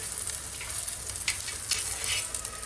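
Ghee spitting and sizzling in a hot pan of jaggery, a close, bright crackle with brief louder bursts as it is stirred.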